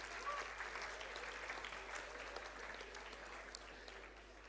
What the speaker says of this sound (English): Let's clap for Nikhil, sir.